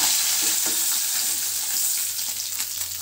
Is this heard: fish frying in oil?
yes